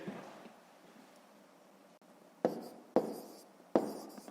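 A pen scratches softly on paper as numbers are written by hand in a fifth-grade math exercise, then three sharp taps land about half a second apart near the end.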